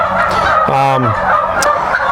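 A loud turkey gobble rings out close by on a turkey farm, a quick rattling burst amid steady background clucking and murmuring.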